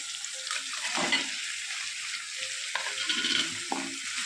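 Cut okra pieces sautéing in a pan for a tamarind okra pachadi, with a steady soft sizzle and occasional stirring scrapes, fairly close, no talking.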